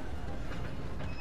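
A train rolls along in the video game Red Dead Online, a brief steady rumble with rhythmic rail clatter and a faint hiss, without speech.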